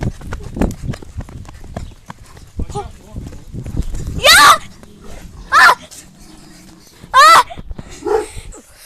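A dog barks nearby in three loud bursts with a fourth, fainter one, outdoors among people talking and footsteps.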